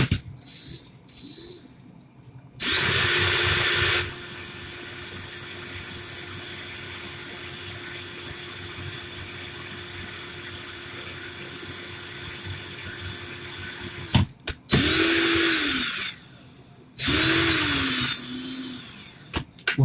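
A handheld power drill whirs in three bursts, spinning 38-gauge wire for a vape coil build on an Elfy RTA. There is one long run, then two shorter ones, each with a rising motor whine, close and loud.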